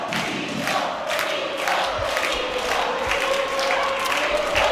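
Futsal fans supporting the home side in an indoor arena, a dense crowd roar of cheering and chanting that holds loud and steady throughout.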